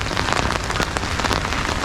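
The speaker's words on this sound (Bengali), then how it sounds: "পরিবেশটা দেখেন জাস্ট বৃষ্টি তো সেই বৃষ্টির ভিতরে" Dense, heavy rain pattering hard on surfaces at Gazipur Safari Park, Bangladesh, near a lake, a loud continuous hiss with close drops.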